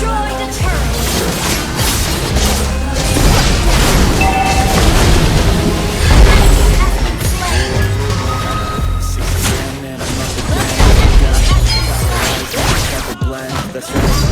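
A turret is destroyed in the Mobile Legends video game, with loud, layered booming impacts and crashes over dense game music and effects, continuous for the whole stretch.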